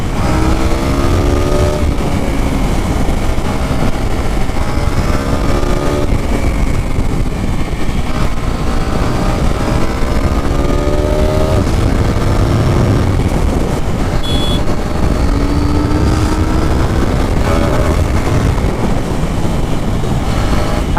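A 790 motorcycle accelerates hard through its gears on a highway, the engine note loud and continuous with rising revs and shifts, mixed with heavy wind rush and passing traffic throughout.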